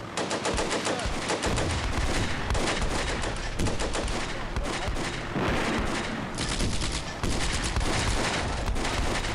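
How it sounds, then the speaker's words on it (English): Artillery strike and gunfire in the World War II game Combat Mission: Beyond Overlord at La Fiere, a dense, loud barrage of rapid shots and blasts that runs almost without pause. "That seems like artillery strike."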